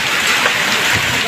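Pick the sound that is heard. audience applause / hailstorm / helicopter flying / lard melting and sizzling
hailstorm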